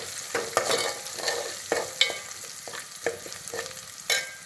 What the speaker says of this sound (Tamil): கொஞ்சம் மஞ்சத்தூள், அது நல்லா எண்ணெயில் வதக்கிடுச்சு